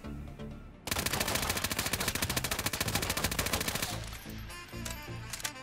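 Fully automatic MP7A1 submachine gun fire while aiming down sights in the shooter game Ironsight, a long rapid burst of evenly spaced shots that stops, followed by a few lingering echoing tails.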